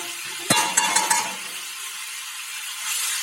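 Spice paste with Kashmiri chili powder, turmeric and salt is stir-fried in a pan for a koi fish curry: a sharp scrape of the spatula, a few quick clinks, then a steady soft sizzle, with no talk.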